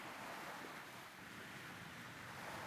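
Waves washing steadily onto a beach at the water's edge, a soft, continuous surf hiss with no breaks, faint and unaccompanied by voices.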